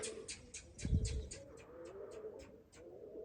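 A small flock of around ten or eleven pigeons flies in low toward home, with a steady run of rhythmic wingbeat pulses and soft cooing over a low background hum, plus one brief thump near the start.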